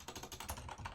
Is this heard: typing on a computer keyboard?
yes